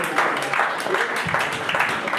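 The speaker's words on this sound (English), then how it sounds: "Ladies and gentlemen, please, put a hand of applause for him." Audience members at a gathering applaud a welcomed guest, giving a short burst of steady clapping with some chatter mixed in.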